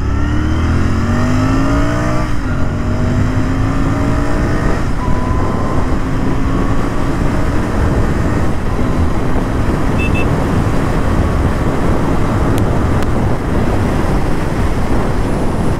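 A Royal Enfield Interceptor 650 motorcycle engine revs and accelerates hard continuously, its pitch climbing through gear changes amid steady loud wind and road roar, close and sustained with no talk.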